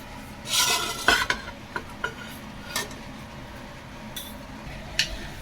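Spaghetti being mixed in a pot or bowl, with several close, distinct clinks and scrapes of a utensil against the container spread over a few seconds, fairly quiet overall.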